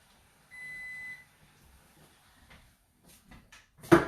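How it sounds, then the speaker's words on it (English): A single steady electronic beep sounds for about half a second, followed by quiet room noise and a few soft knocks. "Just don't want y'all to hear this beeping."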